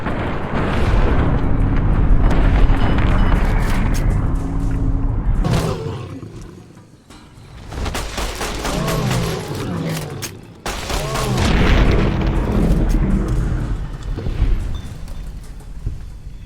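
Heavy bursts of .45 caliber gunfire in the Fallout wasteland, loud and dense, coming in two long rapid volleys with a short lull between and booming low rumble, mixed with game noise.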